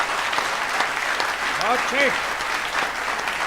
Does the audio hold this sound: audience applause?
yes